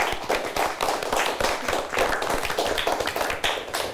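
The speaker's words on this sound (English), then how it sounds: "Let's give them both a good round of applause." Audience applauding two quiz teams at the close of a televised quiz game: steady, dense clapping from a modest crowd, fairly loud and sustained with no talk over it.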